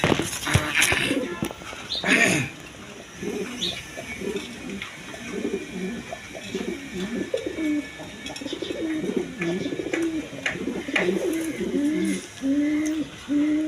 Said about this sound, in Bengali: এখানে এক পেয়ার টিউলিপ কবুতর আছে